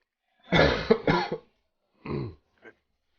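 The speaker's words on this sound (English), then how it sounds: "still coughing a little bit, you know." Several harsh, close coughs: two long bursts back to back, then a shorter cough and a brief final hack.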